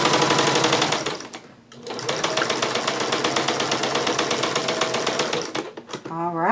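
A sewing machine stitching a jellyroll quilt top runs in a fast, steady mechanical rattle, pauses briefly, then resumes and runs for several seconds before stopping, loud and close.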